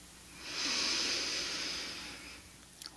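A single long, deep breath drawn in through the nose or mouth as part of a guided breathing exercise, a steady airy rush swelling and fading over about two seconds, close and fairly quiet with no talk over it.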